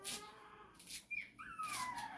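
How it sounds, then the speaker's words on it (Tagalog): A puppy whimpers to be let outside, thin high whines rising and falling in a couple of short bursts, close by and fairly quiet, with no talking. "Yung tuta ko, guys. Gusto lumabas."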